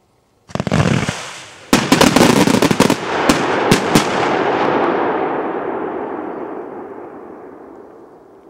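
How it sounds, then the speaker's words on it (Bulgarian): A 50-shot fireworks cake firing 1.2-inch Blue V-Shape shells with thunder: a loud, rapid volley of sharp bursts and cracks over several seconds, with booming reports trailing into a long fading rumble and crackle outdoors. "50 изстрела Blue V-Shape с гръм."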